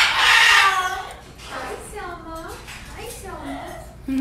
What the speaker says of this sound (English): look at this wet chicken